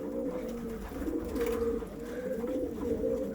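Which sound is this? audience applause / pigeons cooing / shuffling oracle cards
pigeons cooing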